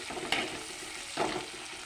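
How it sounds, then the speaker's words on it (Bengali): Chopped onions fry in a pan while being cooked for a mutton curry, a soft steady sizzle broken by two brief stirring scrapes. "পেঁয়াজ কুচি দিয়ে দিলাম লাল লাল করে লাল করে ভেজে নেব"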